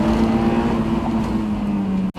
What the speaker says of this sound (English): This engine just wants to rev, and it wants you to rev all the way to redline